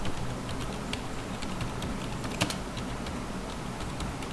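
Keywords typed on a computer keyboard, a dense run of light, rapid key clicks with one louder tap, steady and close over a hissy background, with no voice.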